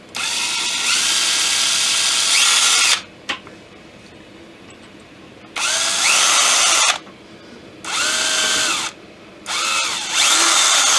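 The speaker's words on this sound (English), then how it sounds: "drill bit back down through there to clean off the burrs" A drill runs a bit down through a 1/16-inch brass ramrod piece for a Kibler Colonial flintlock kit to clear burrs, with several loud, close whirring bursts separated by short pauses.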